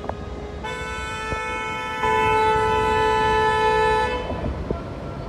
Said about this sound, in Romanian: Cine claxonează mai tare?